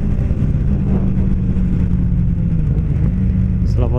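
A Kawasaki ZX6R motorcycle engine running near, a loud steady low rumble with a slight rise in revs toward the end, no talking over it.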